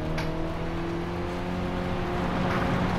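Engine of a 1972 Alpine A110 1600S, a twin-carburettor rally car in GT Sport, revs in a steady loud drone heard from inside the cockpit, with no talk over it.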